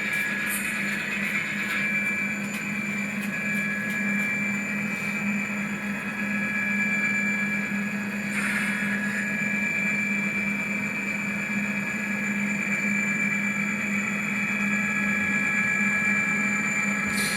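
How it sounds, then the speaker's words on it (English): HO scale Scale Trains model locomotive running on a layout, its sound unit giving a steady diesel engine drone with a mid-pitched hum and faint clicks, continuous and close throughout. "the Scale Trains engine though, this thing just sounds fantastic"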